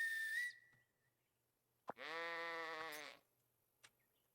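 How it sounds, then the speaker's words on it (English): In the video game The Good Life, a bright whistle sounds as a sheep is called, then after a short pause a sheep answers with a single long wavering bleat, with a few faint clicks around it. "I'm going to come back out and call a sheep."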